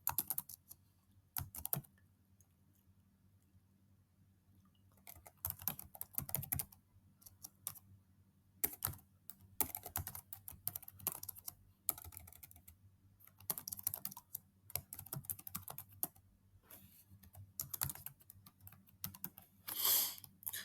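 Typing on a computer keyboard in bursts of quick, close, clicky keystrokes separated by short pauses, with no one talking.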